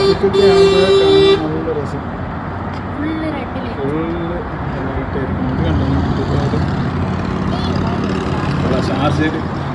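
Night traffic in Sharjah, a steady roar of passing vehicles with a loud horn blast at the start, heard under someone talking close by.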